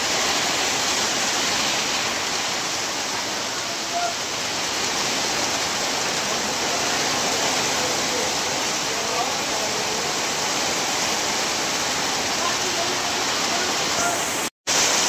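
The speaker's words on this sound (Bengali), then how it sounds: "প্রচুর বৃষ্টি, প্রচুর প্রচুর, এমন বৃষ্টি আমার জীবনে কোনো দেখিনি।" Heavy rain in Maheshkhali, Bangladesh pours down in a loud, unbroken roar throughout, with a single abrupt dropout near the end.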